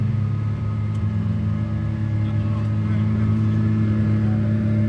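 Aston Martin Vulcan race car idling on the grid at Silverstone GP, a deep steady rumbling engine burble held without revving, with voices faintly audible beneath it.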